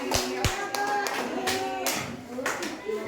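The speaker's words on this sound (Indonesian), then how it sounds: "Oke, tepuk tangan sekalian." A classroom of students claps hands during a civics lesson, scattered sharp claps standing out among voices talking, fairly close and uneven in rhythm.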